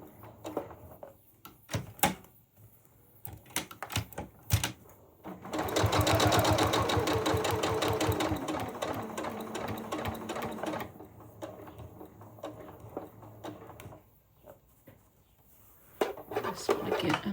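A sewing machine stitches a quilted fabric pouch with a tight stitch, with a sustained burst in the middle, scattered handling clicks and knocks around it, and short runs near the end.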